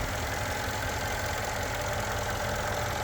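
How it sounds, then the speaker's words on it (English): A 2014 Mercedes ML63 AMG Performance Package with its 550 hp engine sits idling, giving a steady, continuous low rumble with a dense, even texture throughout, heard close up under the hood with no talk. "The engine's idling happily."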